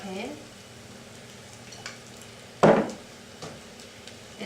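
Oil sizzles softly in a frying pan before mushrooms go in, a low steady hiss punctuated by one sharp clatter midway and a few lighter taps.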